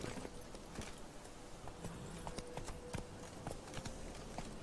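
Horse hooves clip-clop on the ground in a video game, a faint, quick, even patter of small knocks running throughout with no talk over it.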